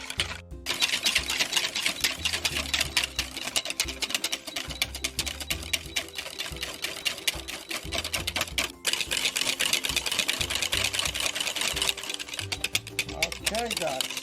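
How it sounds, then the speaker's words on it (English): An electric hand mixer whips cream with sugar for strawberry shortcake, a steady close mechanical whir running almost without break, dipping briefly partway through. "So you got to keep whipping this to the air."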